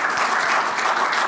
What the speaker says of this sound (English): You can applaud, yes, you certainly can.